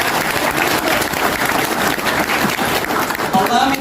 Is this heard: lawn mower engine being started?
no